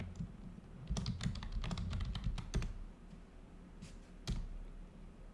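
Keys tapped on a computer keyboard while entering an administrator password during a Windows Hyper-V Server 2019 setup, with irregular clusters of close, crisp clicks and short pauses over a low background hum.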